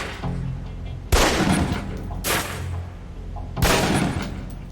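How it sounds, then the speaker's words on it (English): Three loud pistol shots at a range target in Alpha Protocol ring out one by one, each a sharp crack with a short reverberant tail, spaced a second or more apart, with no voices. "Equip the pistol, then aim down range and take some shots at the target."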